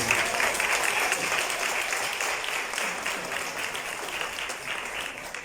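An audience at an artisan runway show honoring Huichol native artists gives a steady round of applause, thick overlapping clapping that stays even and continuous throughout.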